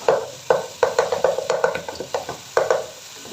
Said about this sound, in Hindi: चिकन को अच्छे से फ्राई करेंगे।